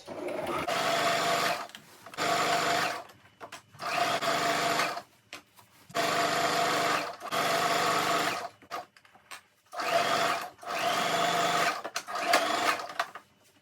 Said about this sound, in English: Then you sew it from here to here with your sewing machine.